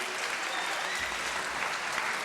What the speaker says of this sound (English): let's give a big round of applause to this young lady